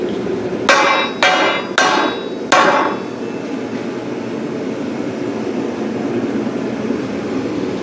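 Four hard, ringing hammer strikes land in quick succession on a welded aluminum boat joint during a strength test, each sharp and loud, followed by a lingering low background hum.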